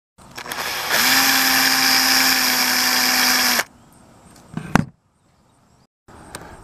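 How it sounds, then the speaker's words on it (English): A power drill whines steadily for about three seconds, boring a small hole of roughly 1/8 inch through the primer end of an old bullet cartridge, then stops, followed by a brief clatter and quiet. "So I'm going to drill probably like a 1/8 or smaller hole right where the primer and the shell used to be."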